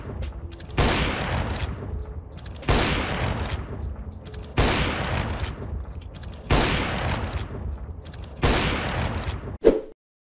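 Five loud sustained bursts of automatic gunfire in Counter-Strike 2, each lasting over a second with short gaps between, fired at moving bot targets, ending with a sharp single click.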